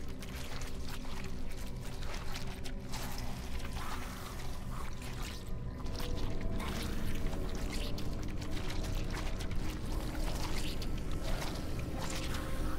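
Splashy, churning footsteps wade through water in the Bramble: The Mountain King video game, a steady sloshing texture with some louder surges, moderately quiet and continuous, without talking.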